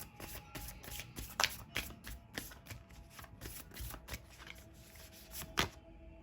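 A deck of tarot cards is riffled and shuffled close up, giving a string of quick, crisp flutters and slaps in an uneven rhythm, fairly soft, with no voices.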